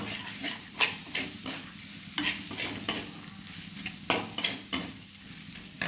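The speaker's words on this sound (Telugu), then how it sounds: "ఉల్లిపాయ అనేది కొంచెం బ్రౌన్ కలర్ రావాలి అప్పటి వరకు వేయించుకుందాము" Onions fry with ginger garlic paste and turmeric in a pan, a soft constant sizzle punctuated by regular scraping stirs of a spatula, close up and without voices.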